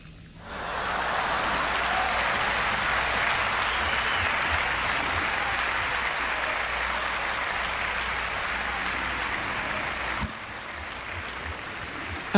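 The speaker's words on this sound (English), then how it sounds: "When I pressed the applause and I pressed stop, the applause kept going." A sustained applause sound effect played from a computer during a livestream concert, a dense and steady wash of clapping that holds for about ten seconds and then drops slightly before ending.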